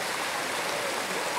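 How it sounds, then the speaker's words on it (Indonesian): Water pours steadily from a shower spout at the Curug Jodoh hot spring in Sari Ater, a constant dense hiss of falling water close by. "di sini juga terdapat pancuran 7 ya"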